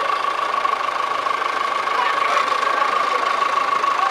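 A vintage tractor, a David Brown Selectamatic, idles steadily at a rally, its engine giving a continuous even hum and throb throughout, close and fairly loud, with no talk over it.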